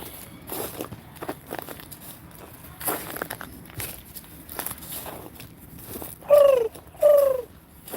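A pigeon coos twice, close and clear, near the end, after several seconds of outdoor shuffling, footsteps and background noise.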